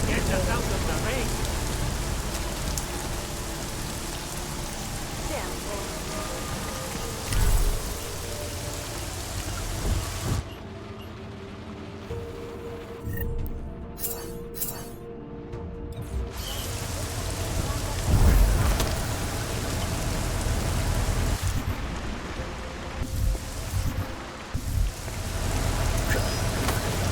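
Steady rain pours down in the video game Deus Ex: Mankind Divided, a dense, continuous hiss with low rumbling and brief dips, playing on through its length with game effects mixed in.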